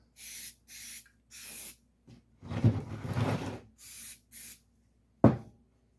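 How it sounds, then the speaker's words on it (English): Aerosol brake cleaner hisses in short bursts onto the rear brakes of a 1969 Triumph Bonneville motorcycle: three quick sprays, a soft rubbing, then two more sprays and a final sharp knock, close and fairly quiet. "It's a brake clean."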